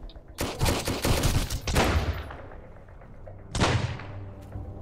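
Shotgun blasts in the survival game Sunkenland, a cluster of loud close shots with rapid echoing crackle, a lull, then another heavy blast fading out.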